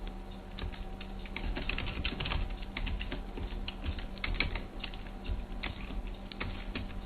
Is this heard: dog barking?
no